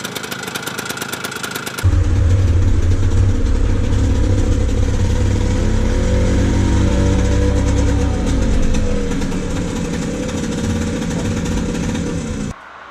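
A Piaggio Ape's 218 cc two-stroke single-cylinder engine starts up and idles steadily with a buzzy, rattling putter, loud and close, before cutting off near the end.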